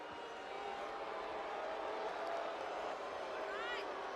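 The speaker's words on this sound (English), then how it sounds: "you can hear the boos and the jeers from the crowd as Beckett comes out to the ring" A wrestling crowd boos and jeers as Lord Bartholomew Brawler Beckett walks to the ring, a dense, steady roar of massed voices filling the arena without a break.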